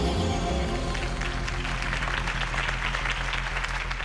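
Crowd applause at Harvey Dent's campaign rally in Batman: The Telltale Series, a steady wash of clapping over a low music bed, holding at an even level throughout.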